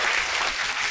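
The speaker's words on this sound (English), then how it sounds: "Applause." Loud, dense applause from a crowd at a spiritual gathering, continuous clapping throughout the short burst with no pauses.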